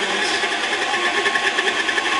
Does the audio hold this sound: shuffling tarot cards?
no